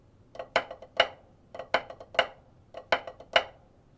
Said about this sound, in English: the flamacue is featured in cadence number 1